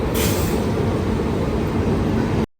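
A passenger train pulls in, a loud, steady rail rumble and clatter that fills the whole stretch before cutting off abruptly at the end, with no voices.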